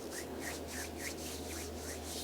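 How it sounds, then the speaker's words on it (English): Hands rubbing back and forth along the thighs during a quiet meditation give soft, steady swishing strokes, about six even passes close by with no talking. "You can rub your hands along your thighs or against each other."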